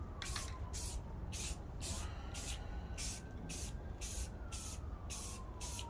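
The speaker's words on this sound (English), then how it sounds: "I'm just gonna spray paint it real quick" Spray paint hisses onto a used bike frame in about a dozen short, even bursts with brief gaps between them, loud and close, against a steady background hum.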